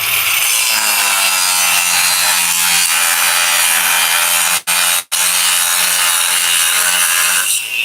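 A Millner Tool power cutter working through 3/8 inch iron at a trade expo booth, a loud sustained grinding whine with a low steady hum, broken by two brief dropouts.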